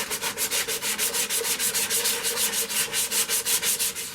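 Sandpaper rubbing steadily over a green poplar bowl on a woodturning lathe, taking out 80 grit scratches; a continuous, close, even hiss with a fast regular pulsing from the spinning wood, no talking.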